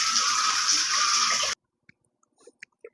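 Water bubbling and splashing in a catfish tank biofilter, a dense steady hiss of aerating water close by that cuts off abruptly, leaving a few faint drips and small sounds.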